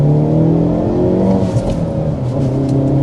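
A 2024 Hyundai Elantra N turbocharged four-cylinder engine hums and whirs steadily up close, with a slight rise and dip in pitch as it revs, no voices present.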